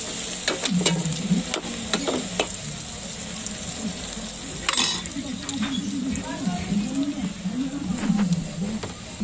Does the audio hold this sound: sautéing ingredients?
yes